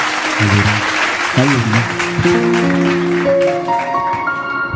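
An audience applauds Ejaz Taj at a melody night, the clapping sustained and fairly loud while a pitched voice or music rings over it in rising notes.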